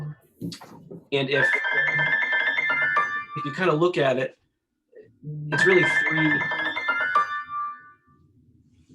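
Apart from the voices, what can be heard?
mobile phone ringtone ringing during meeting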